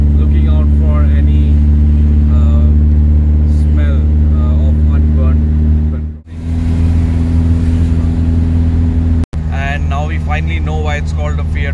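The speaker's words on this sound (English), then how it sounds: "we are keeping the revs low, driving not more than 60 kilometers per hour" A 1963 Fiat 1100 Super Select driven gently at low revs under about 60 km/h, its engine a loud, steady low drone with strong harmonic hum, while someone talks over it and a brief dropout interrupts partway.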